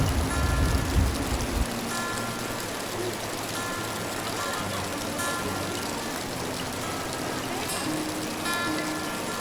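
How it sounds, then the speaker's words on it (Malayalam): Heavy rain pours steadily over a cardamom plantation resort in Thekkady, a dense, unbroken roar of drops close by with a low rumble at the start. "മഴ നല്ല വാശിക്ക് പെയ്തുകൊണ്ടിരിക്കുക, തകർത്ത് പെയ്തുകൊണ്ടിരിക്കുക."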